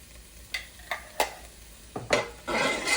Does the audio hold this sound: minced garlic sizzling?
yes